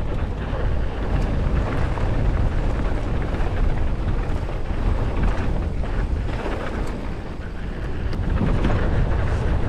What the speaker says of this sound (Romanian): Sper să se audă pentru că este cam vânt.